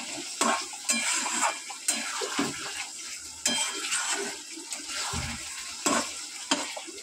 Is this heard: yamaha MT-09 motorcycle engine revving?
no